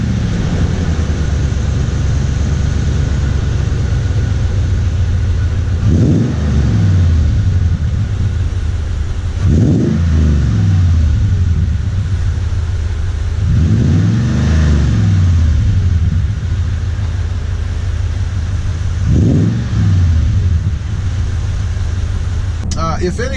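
A Toyota Tundra with a TRD exhaust and cold air intake revs repeatedly, four rising and falling engine surges a few seconds apart over a steady idle rumble, heard close and fairly loud.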